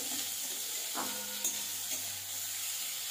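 Chopped onion frying lightly in a pan, a steady soft sizzle running throughout with a few faint stirring clicks, no voices.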